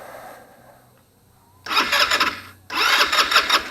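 A Taotao 150cc ATV engine cranks in two loud bursts of the starter, the first after a quiet pause and the second following a short gap, with a low idle rumble running underneath.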